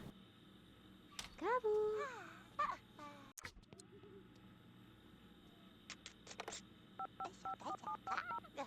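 Touch-tone phone dialing in The Sims: a quick run of short electronic beeps near the end, following warbling Simlish voice chatter and game sounds.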